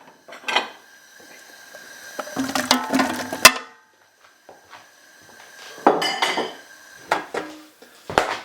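Beef and mushrooms tipped into a metal pressure cooker pot, giving bursts of clanking and clinking metal as utensils knock the pot, with quiet gaps between clusters.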